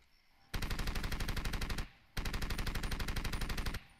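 Mounted turret gun in Far Cry 2 firing two sustained automatic bursts, each a rapid, evenly spaced hammering of loud shots lasting over a second, separated by a short pause.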